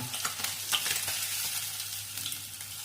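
Tangra fish fry in hot oil in a pan, giving a continuous, close, crackling sizzle with small spitting pops and no talking.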